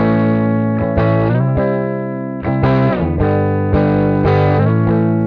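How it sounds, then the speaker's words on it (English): Distorted electric guitar played through a HeadRush pedalboard with amp modeling, loud sustained chords struck in a slow rhythm, each ringing out with dense harmonics before the next strum. "We've got the stereo wet signal with distortion, amps, and all, and then we have a dry guitar signal."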